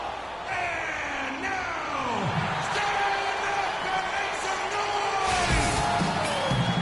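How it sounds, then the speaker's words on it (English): An arena crowd in an NBA 2K basketball game at a Milwaukee Bucks home game keeps up a steady loud roar with whoops and cheers, under an announcer's voice that runs through most of it. "The crowd is assembled at BMO Harris Bradley Center looking for a Bucks victory here in Milwaukee."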